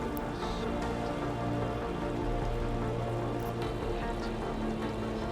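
Steady rain in the Warframe video game falls in an even, dense patter that holds at a constant level throughout, with no talk.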